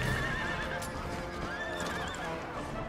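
Militia cavalry horses in Empire Total War whinny and neigh repeatedly over a continuous clatter of hooves, with a busy battlefield wash underneath.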